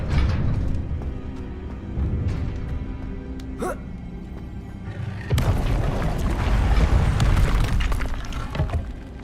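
In Hogwarts Legacy, a Confringo blasting spell is cast, and a heavy booming explosion erupts after a moment of creaking mechanical rumble, swelling into a loud, sustained roar of debris and crackle close by.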